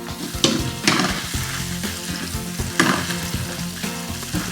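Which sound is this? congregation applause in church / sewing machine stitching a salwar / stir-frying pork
stir-frying pork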